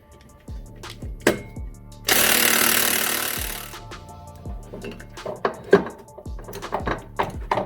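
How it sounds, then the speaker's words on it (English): A grease gun pumps grease into a Can-Am Maverick 1000 part, sharp ratcheting clicks and knocks spaced out irregularly, with a loud hissing spurt lasting a couple of seconds in the middle. "So I'm gonna pull it out, pump some grease in there."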